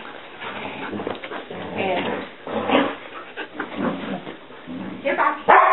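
Several puppies bark and whimper in a busy jumble of yips and whines, with a louder burst at the end, while people talk nearby.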